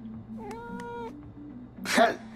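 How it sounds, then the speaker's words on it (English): A cat in the video game Life is Strange: True Colors gives a drawn-out meow, then a rustling burst of sound near the end, with a voice speaking faintly beneath. "Yeah, get away, cat."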